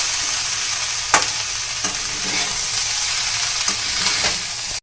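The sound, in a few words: potatoes and cauliflower frying in a pan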